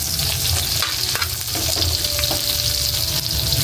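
Ginger sizzles and fries in hot oil in a pan as sarciadong tilapia is cooked, a steady close crackle with occasional stirring scrapes and no voices.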